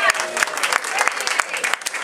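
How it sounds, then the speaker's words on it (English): Theatre audience at a staged play event claps for the cast, a brief, lively burst of close, irregular hand claps with a voice talking underneath. "let's give them a round of applause for that"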